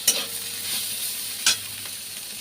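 Ivy gourd fries in a pan with a steady, close sizzle, and two sharp scraping clinks mark poppy seed paste being added and stirred in. No one speaks.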